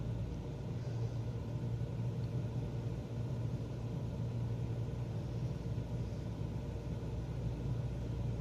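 Propeller aircraft engine in Microsoft Flight Simulator 2024 on a cargo flight, a steady low droning rumble that holds an even level throughout, with no talking.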